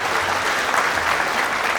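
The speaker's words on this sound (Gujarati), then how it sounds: "એકવાર જોરદાર તાળીઓ" A dense wash of clapping from a live audience greeting invited guests and the village head at a Mahashivratri comedy show, steady and loud throughout with no pauses.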